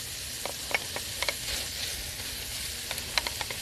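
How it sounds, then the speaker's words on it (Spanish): Bacon sizzling in a cast-iron skillet, a steady close hiss broken by small popping spatters and light stirring clicks, with no talking. "vamos a empezar a colocar tocino en un sartén de hierro"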